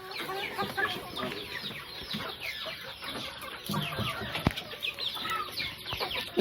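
Chickens cluck and squawk close by in a busy flock, overlapping calls rising and falling with occasional wing flaps and scratching, with no talking.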